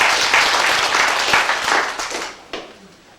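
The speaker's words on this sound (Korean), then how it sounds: "박수 다시 한번 부탁드리겠습니다" Applause from the audience at a university labor union's inauguration ceremony and general meeting: dense, sustained clapping that fades toward the end, with a few louder claps standing out.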